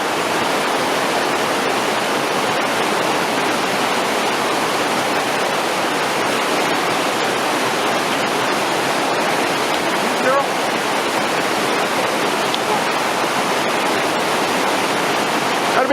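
Fast water of a glacial creek rushes and roars continuously close by, a dense, unbroken hiss of flowing water with no pause, loud throughout.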